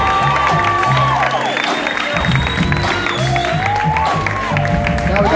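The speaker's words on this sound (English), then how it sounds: "I applaud and I clap for him" A live club crowd in New York applauds, cheers and whoops loudly and continuously, with shouting voices mixed through the dense, sustained ovation.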